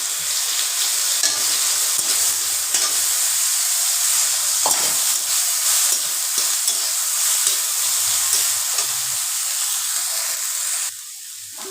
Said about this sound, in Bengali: এখন আমি একদম সোয়াবিনটা ভাইজা নেই